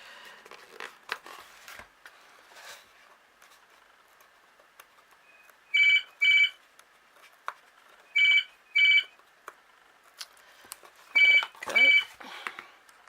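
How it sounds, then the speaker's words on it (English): Indoors in a craft room, a telephone rings in three pairs of bright electronic double trills spaced a couple of seconds apart, clear and fairly loud over faint background rustling. "A phone call."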